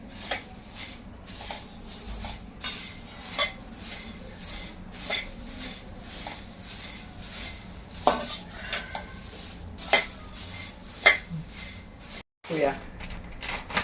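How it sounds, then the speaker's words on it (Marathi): Puffed rice being roasted and stirred in a large, heavy-bottomed kadhai: irregular metallic scrapes and clinks of the spoon against the pan, with soft rustling between strokes. "हे मुरमुरे आपल्याला थोडेसे कुरकुरीत करून घ्यायचे आहेत थोडी त्याला उष्णता मिळाली की ते छान कुरकुरीत होते"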